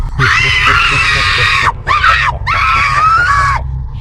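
A woman screams loudly and close by in three long, piercing bursts, the first the longest, separated by brief pauses.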